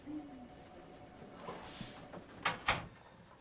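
An office door swings shut in a quiet room, landing as two sharp, close clunks in quick succession near the end after a soft shuffle.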